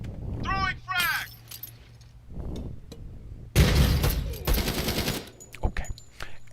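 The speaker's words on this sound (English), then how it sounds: "I'm going to throw a fucking grenade in this room and it's going to blow up these fucking propane containers" A frag grenade blowing up propane containers in a room in a close-quarters shooter video game: a sudden loud blast with a rumbling, crackling aftermath and trailing gunfire pops, with someone talking before it.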